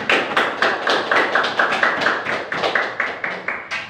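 Students clap in a classroom at the end of a group presentation on enzymes and metabolism, a brisk run of close, distinct hand claps that is steady and a little uneven and goes on without talk.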